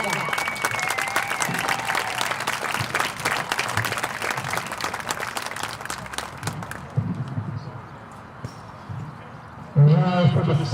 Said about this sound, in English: How about a big round of applause for all the guys on the field and in the dugout?